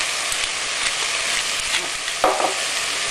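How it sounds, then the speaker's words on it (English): Beef mince browning in a pan for moussaka, a loud, continuous frying hiss with occasional brief crackles and a spatula scrape near the end, with no talking. "we're just going to try and brown off the mince a little bit"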